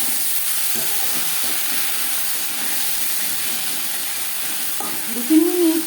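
Onion, tomato, salt and turmeric for an aar fish curry fry in a pan, a continuous close sizzle and hiss with soft stirring scrapes and a louder clatter near the end.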